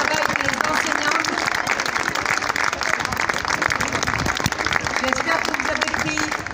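Sustained applause from a crowd of parents at a school carnival parade of children in costume, thick continuous clapping with voices murmuring beneath.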